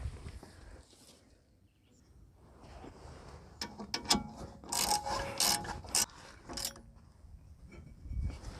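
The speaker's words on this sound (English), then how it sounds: "Now let's tie it down with the ratchet." Ratchet tie-down strap being cranked tight during rear brake pad work on a Hyundai Tiburon, giving a burst of rasping clicks and rubbing scrapes midway, fairly close and moderately loud over quiet background.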